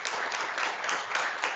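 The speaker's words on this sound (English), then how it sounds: "Please give them a round of applause." Dense audience applause at a closing conference, a continuous broadband clatter of many hands at moderate level, no voices.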